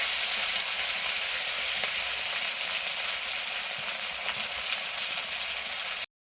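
Chopped garlic and ginger fry in hot oil for chilli chicken, a steady, loud, close sizzle that holds evenly without talk and then cuts off abruptly.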